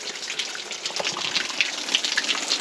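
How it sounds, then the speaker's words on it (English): Water running from a rustic outdoor bush shower at a farm campsite, a steady broad splashing gush that stays fairly loud and continuous throughout with no talking. "There's the water."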